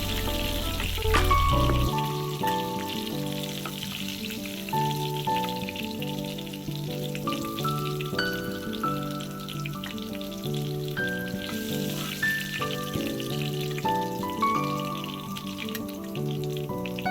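Chicken fries in hot oil, a continuous sizzle with faint crackles running under background music for the whole stretch.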